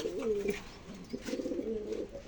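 A domestic pigeon cooing close by, two throaty rolling coo phrases in quick succession.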